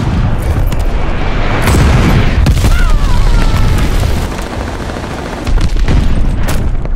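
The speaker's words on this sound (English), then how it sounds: "enemy's got a glide bomb incoming" Loud booming blasts and rattling gunfire from a glide bomb strike in the Call of Duty Vanguard team deathmatch video game, with heavy, sustained rumbling explosions close by.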